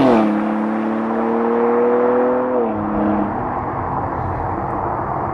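2022 BMW X3 M Competition SUV driving, engine note climbing steadily then shifting down as a gear change lands, followed by a continuous road and engine roar.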